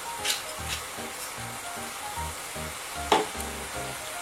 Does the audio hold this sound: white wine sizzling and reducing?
yes